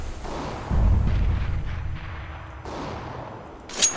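Counter-Strike grenade blasts on de_mirage: a heavy low boom rolls in and lingers for a couple of seconds, followed by a second softer burst and a sharp bright crack near the end, with no talking.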